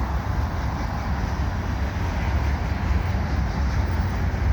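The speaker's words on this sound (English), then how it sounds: "here we have a westbound CN train" A westbound CN mixed freight train led by a GP9RM locomotive rolls past across a winter highway, a steady low rumble and broadband roar that holds even throughout, with no voices.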